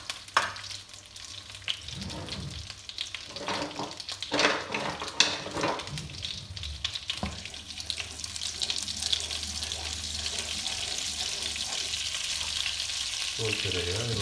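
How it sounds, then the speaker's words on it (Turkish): Boletus mushrooms sautéing in plenty of butter in a pan, a close crackling sizzle with a few clatters of stirring and utensil knocks, settling into a steady fry. "Çörek mantarını böyle muhteşem tereyağının içerisine hızlı bir şekilde soteleyeceğim inşallah"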